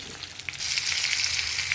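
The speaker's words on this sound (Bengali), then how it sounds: "ডিমটা ভালো করে ভেজে নেবো।" An egg fries in a hot pan with a steady, bright sizzle and crackle that swells after the first half second and holds at full strength, with a few sharper pops and no voices.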